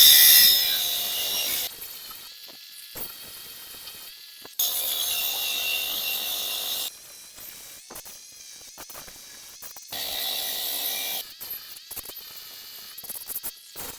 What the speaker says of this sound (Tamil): இப்போ நம்ம வி ஷேப் கட் பண்ணியாச்சு.